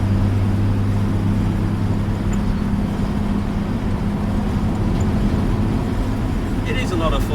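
A 1958 GMC Apache Fleetside pickup drives on UK roads, its engine giving a constant low droning hum with road rumble throughout, and a voice talks faintly over it.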